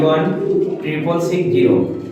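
Jacobin pigeons coo softly nearby, their low burbling calls mixed with a person speaking.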